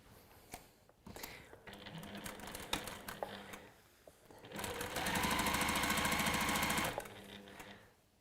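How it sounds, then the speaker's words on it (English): Sewing machine stitches seams along two sides and across the base of a fabric piece: a quiet start of clicks and short runs, then a loud, steady, rapid whirring burst of a few seconds before it stops. "I'm going to stitch down both sides and across the base."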